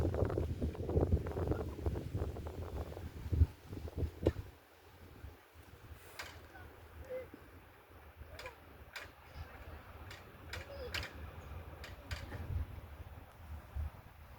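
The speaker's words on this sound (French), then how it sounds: "Il y a beaucoup de vent aujourd'hui." Strong wind gusts outdoors, a low rumbling buffet against the microphone that swells and fades, with scattered faint ticking sounds and no talk.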